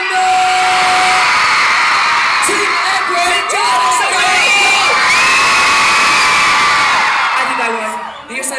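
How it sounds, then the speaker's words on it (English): A concert audience of young fans cheers, screams and whoops loudly in a sustained roar, with shrill sliding shrieks rising over the crowd before it fades at the end. "Team Edward, come on. Team John, warm it up. Make some noise"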